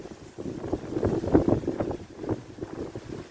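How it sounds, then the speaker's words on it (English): Strong wind buffets an outdoor microphone beside water while float fishing, a continuous low rumbling roar that swells to its loudest around the middle of the stretch, with no talking. "this wind is crazy."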